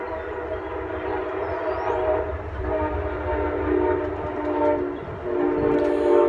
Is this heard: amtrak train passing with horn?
yes